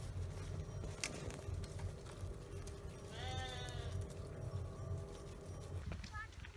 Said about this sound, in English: These sheep are so hungry that they're eating pine trees.